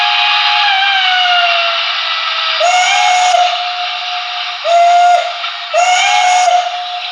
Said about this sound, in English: Broadway's single chime Banshee whistle for the Pennsylvania is pretty close.